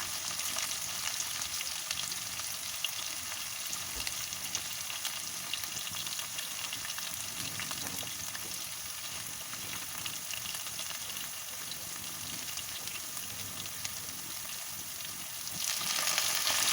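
Chopped capsicum and carrot sizzle steadily in a hot pan for vegetable chowmein, a continuous close frying hiss that swells slightly louder near the end, with no voices.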